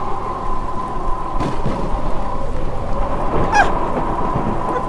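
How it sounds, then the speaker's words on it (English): Rain falls steadily with low rumbling thunder in a dramatized story soundtrack, a constant near hiss of rain under deep rolling rumbles, with a faint bird-like chirp partway through. "Oh my God, it's raining."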